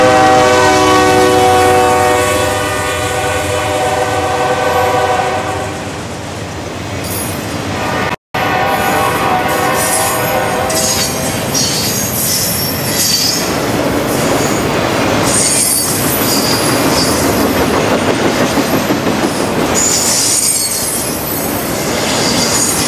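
A CSX freight train with foreign locomotives rolls through Folkston, opening with a loud, sustained horn blast, then heavy cars rumble and clatter past with squealing wheels, close and continuous.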